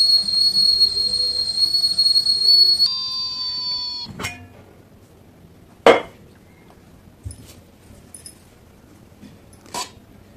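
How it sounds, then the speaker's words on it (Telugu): A pressure cooker steaming chana dal kudumulu sounds a loud, steady high whistle for about three seconds that slides lower and cuts off, followed by a few sharp kitchen clinks and knocks in the quiet. "ఒక విజిల్ వస్తే సరిపోతుంది."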